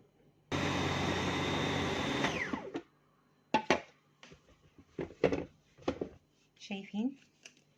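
An electric food grinder mincing a falafel mixture whirs loudly and steadily for about two seconds, then winds down and stops, after which someone talks nearby over faint rustling.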